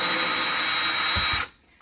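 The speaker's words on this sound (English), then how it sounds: "So I have my drill here, just wanted to make sure that it's in reverse." A power drill in reverse backs a screw out of a door strike plate on a door frame, its loud steady motor whine running up close before cutting off abruptly, followed by a couple of faint knocks.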